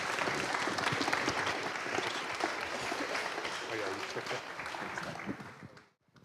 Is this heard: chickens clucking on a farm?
no